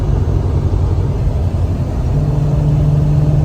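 Restored Jeep Cherokee XJ with a Davis Autosports stage 2 build cruising on cruise control, a steady low engine and road rumble droning evenly throughout with no talk.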